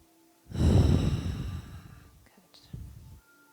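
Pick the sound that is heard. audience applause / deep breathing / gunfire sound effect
deep breathing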